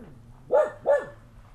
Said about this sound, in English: Dogs are in the background.